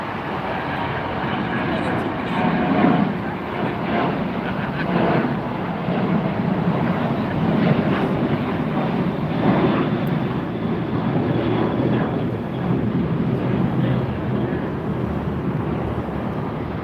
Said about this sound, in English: Sun Country's going out.